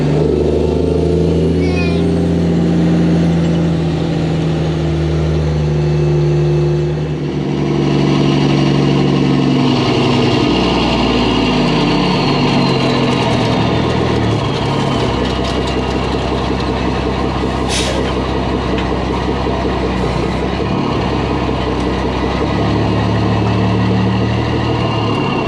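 A Mack truck engine runs steadily at close range without a trailer hitched, a loud continuous low rumble with an air-brake-like hiss partway through, under a voice talking.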